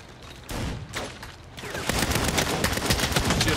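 Rapid bursts of gunfire in the Saints Row video game, a dense run of overlapping shots that grows louder and more continuous in the second half, close and sustained.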